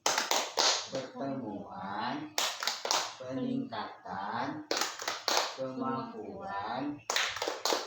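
Group of women clapping a rhythmic P2K2 clap chant at the close of a family capacity-building meeting, with bursts of clapping alternating with chanted speech in a repeating pattern.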